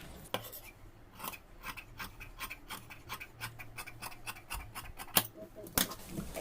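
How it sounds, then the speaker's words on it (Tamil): Scissors snip through cloth for churidar pants in a quick rhythmic series of close, crisp cuts, fairly faint, with a couple of sharper clicks near the end. "இப்போ இதை வந்து நம்ம கட் பண்ணிக்கலாம்"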